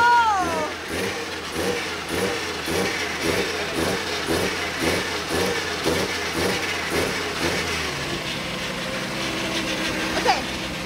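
An engine runs steadily at a rough, pulsing idle, close and loud, with a regular rhythmic thump throughout that smooths out near the end, at a midsummer car meet known for burnouts.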